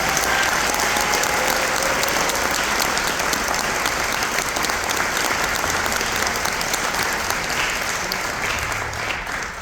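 Dense, loud applause from a concert audience for honor band students, the clapping continuous and even for about ten seconds before it starts to thin out at the end.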